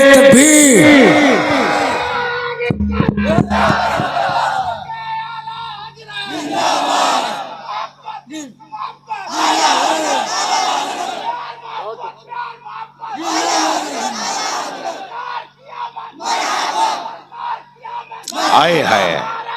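A large religious gathering roars back a shouted chant in answer to the Takbir call, repeated bursts of massed voices swelling and fading in waves, with a lone voice leading between them.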